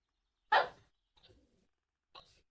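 A dog gives one sharp, fairly close bark, followed by a soft muffled noise and then a second, quieter short bark, with near silence between them.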